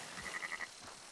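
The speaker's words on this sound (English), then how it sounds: "Got some sheep." Sheep in the Red Dead Redemption 2 video game bleat in a short run of quick, moderately loud calls that fade out within about a second, with no talk over them.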